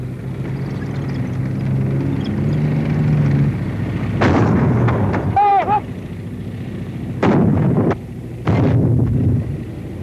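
A 37mm anti-tank gun fires in sharp, heavy blasts, two or three reports spaced a few seconds apart over wind and a low rumble, with a brief shout between shots.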